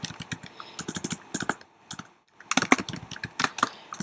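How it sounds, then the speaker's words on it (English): Quick, crisp clicks from a computer keyboard, close and clear, in two bursts of typing split by a brief pause, with nothing else heard. "Now I can type a message into the feed here from HootCourse.com"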